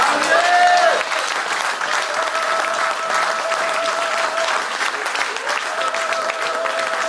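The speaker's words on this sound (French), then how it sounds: "Est-ce qu'on peut acclamer pour le Seigneur?" A church congregation clapping and cheering for the Lord during a sermon, loud sustained applause from a large crowd, with some voices and a tonal hum underneath.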